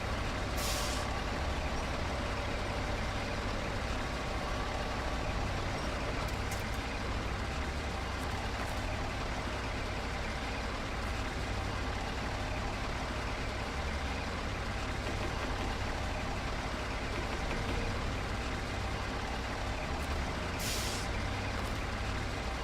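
In a bridge-building video game set in Quebec, a Kenworth truck idles with a steady low diesel drone, and two sharp air-brake hisses sound near the start and end.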